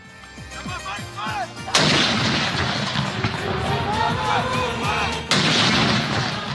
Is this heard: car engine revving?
no